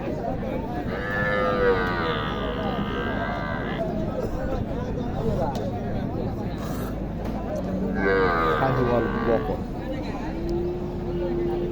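Sahiwal heifers and cattle at a busy open-air livestock market in Naogaon, with a couple of drawn-out lowing calls rising over steady crowd chatter and people talking close by.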